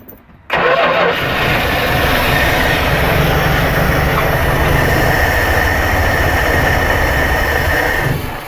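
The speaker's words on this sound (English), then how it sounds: "so the engine does make noise" A 1974 Dodge Winnie Wagon B300 engine cranks briefly and catches, then runs at a loud, steady, close idle with a constant rumbling drone until the end.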